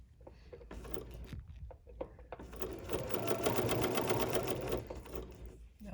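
A sewing machine stitches with its stitch length set to about 3.5, running in a continuous rapid whirring chatter close by. It speeds up through the middle and slows near the end, with a few handling clicks at the start.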